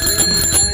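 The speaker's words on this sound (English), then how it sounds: "make sure your bell works" A bicycle bell rings in a fast metallic trill, close and bright, sustained through the short moment with no voices.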